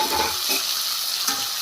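Tomatoes being stirred in a frying pan after ginger-garlic paste has fried, a steady close sizzle with a few soft scrapes of the spoon, no voices.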